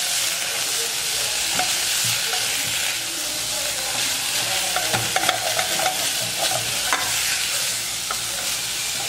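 Thawed chicken sizzles steadily in a hot pan, a loud continuous crackle with small pops and occasional stirring scrapes.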